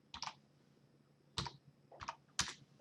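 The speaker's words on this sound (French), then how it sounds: "il va me demander un nom et je vais taper" Typing a business name on a computer keyboard: four short clusters of crisp, close key clicks spread over a few seconds, with quiet gaps between and no talking.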